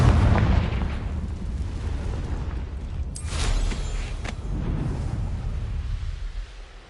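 A Confringo fire spell bursts in Hogwarts Legacy, a loud blast near the start followed by a second crackling explosion a few seconds later, set over steady low game ambience.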